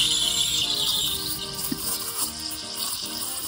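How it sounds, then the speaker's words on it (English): The steam wand of a Lelit Bianca espresso machine runs at full steam in a jug of milk, giving a continuous close hiss with small chirping, kissing squeaks throughout. "As you turn the steam to full, you should hear a kissing sound like this."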